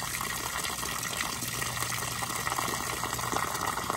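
Brownish water flushing out of a valve on a 1927 American LaFrance fire pumper, a loud steady gushing hiss that runs without pause and with no talking.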